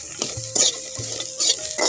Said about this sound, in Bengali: রসুন আর মরিচগুলো একটু ভালো করে ভেজে নেব।